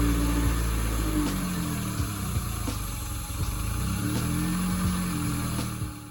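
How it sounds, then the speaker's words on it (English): A Toyota MR2 fitted with a K24 engine idles while warming up after a build, a steady close engine drone with slight rhythmic wavering and a few faint clicks over it. "We let the car run and warm up again to bleed the cooling system."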